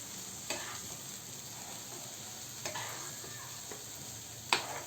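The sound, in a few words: stirring pea chutney with salt in a pan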